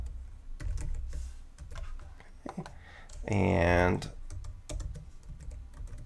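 Rapid clicking of keys on a computer keyboard, steady and close, with a brief burst of speech partway through.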